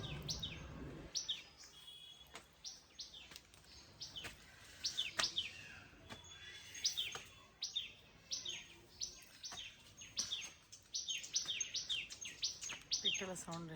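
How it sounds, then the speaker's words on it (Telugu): Birds chirping and calling in the early morning, many sharp high tweets overlapping in a steady busy chorus, fairly close, with no talk over them. "పిట్టలు చూడండి ఎట్లా సౌండ్ చేస్తున్నాయో"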